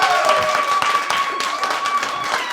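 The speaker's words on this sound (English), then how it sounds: "Clap it up for Gay Chad." A comedy-club audience at a live stand-up show claps in a quick, dense burst of applause, close and lively, with some crowd noise mixed in for a couple of seconds.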